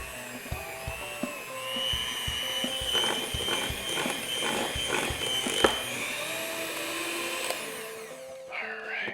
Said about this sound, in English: little egg beaters, you can use that as well.